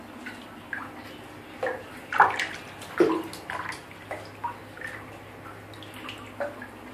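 Small scattered splashes and drips as large lizards move in shallow bath water, irregular and close, over a quiet background hum.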